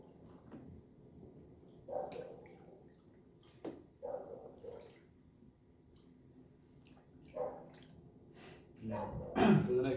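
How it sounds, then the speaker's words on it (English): Deer hide being pushed down into a water-based pickle solution, with quiet sloshing, dripping and gurgling splashes at irregular intervals, faint and close up. "Now the hide will go inside of the pickle. Want it to be fully submerged"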